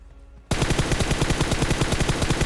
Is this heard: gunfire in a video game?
yes